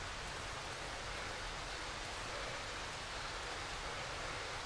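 Rain falls steadily in the horror survival video game Darkwood, a dense, even hiss of downpour that stays constant and fairly close throughout.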